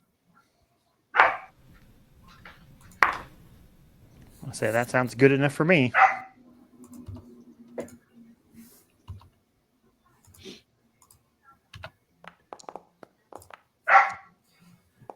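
A dog barks a few times, sharp single barks and a yelping run, while someone talks nearby over a headset.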